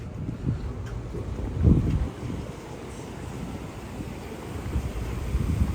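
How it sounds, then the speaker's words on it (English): Wind buffets the microphone in low rumbling gusts on a New York City street in the Meatpacking District, one stronger push early on, steady blustery noise throughout with no talking. "It's a windy day, guys. Pardon the wind."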